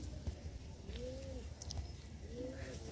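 Soft, low pigeon coos repeat twice at an easy pace, faint against a quiet background hum.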